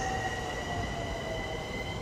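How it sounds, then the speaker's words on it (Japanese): A JR E231-1000 series Shonan-Shinjuku Line train, 15 cars with four doors, pulls into platform 4 at Urawa Station as a local service bound for Takasaki. It makes a loud, steady rumble with a sustained high whine running through it. "まもなく4番線に普通高崎行きが参ります。"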